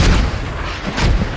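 Mortar fire in a tactical video game, with heavy booming low-end blasts opening and closing a short stretch of loud, continuous rumbling, as if rounds land nearby.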